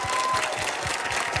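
A live audience claps for performers on a music bandstand show, a brief, steady burst of many hands with a faint low voice underneath.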